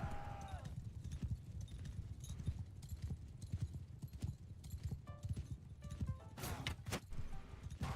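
Horse hooves clip-clop in a steady rapid gallop throughout a medieval Mount & Blade Knightfall battle, close and continuous, with brief metallic game effects and a faint whinny-like sound near the end.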